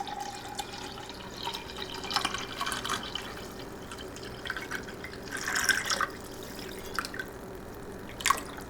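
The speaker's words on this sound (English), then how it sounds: "We're going to add water." Water trickles and drips into a meatloaf pan in soft, scattered bursts, quiet and close, with a couple of brighter splashes near the end.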